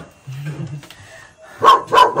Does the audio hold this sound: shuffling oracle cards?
no